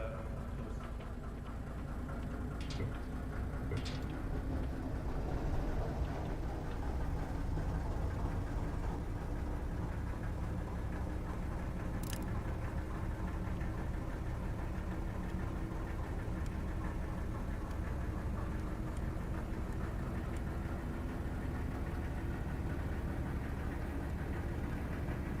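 A submarine's diesel engine runs in a multiplayer submarine warfare video game, a steady low droning rumble with faint knocking that holds evenly throughout, with no voices.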